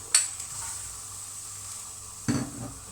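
Dried chilies, salted fish and fermented soybean discs dry-roast together in a pan, with two sharp scraping stirs separated by a quiet, low background of roasting.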